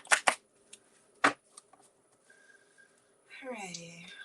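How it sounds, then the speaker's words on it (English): A deck of cards being shuffled during a full moon burning ceremony gives several sharp riffling bursts up close, then a voice begins speaking near the end. "We're going to do some shuffling."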